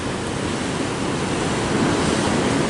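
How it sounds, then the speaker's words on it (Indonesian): Ocean waves surge against rocks along a south coast shore in a loud, continuous roar of surf, with no voices. "Lihat ombaknya, banyak gitu."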